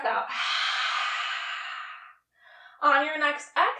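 Deep breath in and long full exhale during a core workout, a sustained airy rush of breath followed by a short gasp, close and fairly loud, with talk starting right after.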